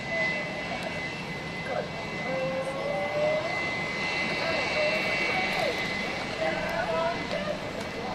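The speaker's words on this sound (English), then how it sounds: "beautiful Embraer Preta 600." At London City Airport an Embraer Praetor 600 business jet produces a steady, moderately distant engine whine and roar while someone talks over it throughout.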